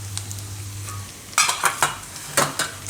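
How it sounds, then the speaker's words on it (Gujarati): Spices being stirred in hot oil for soya nihari: a low hum at first, then bursts of spatula scraping and sizzling crackle in quick, uneven strokes, close and fairly loud. "થોડીક વાર તેલમાં ફેરવી લેવાનું"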